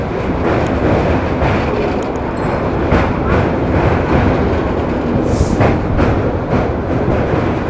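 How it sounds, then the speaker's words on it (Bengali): A local train rumbles across the Kolaghat bridge over the Rupnarayan river, a steady loud rolling roar of wheels and carriages with faint clatter, continuous throughout with a voice briefly underneath. "কোলাঘাট ব্রিজের উপর দিয়ে যখন ট্রেনটা যায় দারুণ লাগে কিন্তু দেখতে।"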